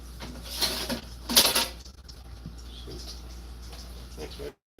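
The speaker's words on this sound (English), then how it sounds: "trying to get the stuff broken up on the bottom with the whisk" A whisk scrapes and clinks against a bowl while mixing ballistic gel, breaking up material stuck on the bottom in a few quick, rattling bursts before stopping abruptly.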